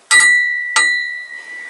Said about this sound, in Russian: Колокольчик без язычка, с дефектом. Но неплохо.